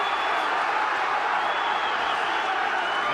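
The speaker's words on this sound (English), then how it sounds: "And listen to this crowd." A crowd at a Commonwealth welterweight title boxing bout in a gym keeps up a dense, continuous wash of cheering and applause that stays steady and loud throughout.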